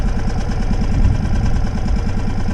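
A sailboat's inboard engine idles soon after its first start-up, a loud, close, steady rhythmic chugging throughout with no voices.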